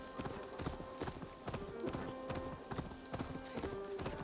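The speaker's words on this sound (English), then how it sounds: "Nice turn, Horsey" Horse hooves clip-clop in a video game, a steady rhythmic series of hollow knocks at a walking pace, close and clear, with faint game tones in the background.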